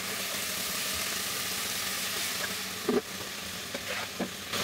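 Blended tomato and carrot puree sizzling in a frying pan, a steady loud hiss of frying with a few soft clicks and stirring knocks near the end, close and alone without talk.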